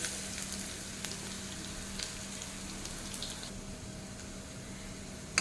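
Pumpkin flower fritters frying in oil over a medium-low flame, a gentle steady sizzle with a few light crackles and a soft clink at the end, no talking.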